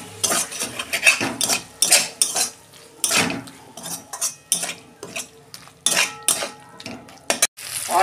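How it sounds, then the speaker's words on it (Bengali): Spice paste with Kashmiri chilli and a little water being fried and stirred in a pan for ghugni, loud close bursts of metal spatula scraping and clanking against the pan with a light sizzle between strokes. "সামান্য জল দিয়ে মশলাটাকে কষে নেব, যাতে কাঁচা গন্ধটা চলে যায়।"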